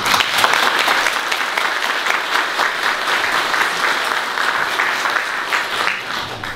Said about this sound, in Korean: 우리 김용식 목사님께 감사의 박수를 한번 드리겠습니다.